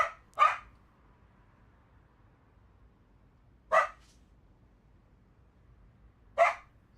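A puppy in a video game lets out three sharp, isolated barks: a quick double yip at the start, then single barks at spaced intervals, fairly close and clear over a quiet background with no talk.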